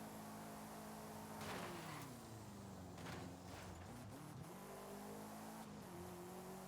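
A D-class 850-horsepower car in a racing video game, its engine revving and shifting through gears with whining pitch sweeps and some tire noise, steady and close throughout with no speech.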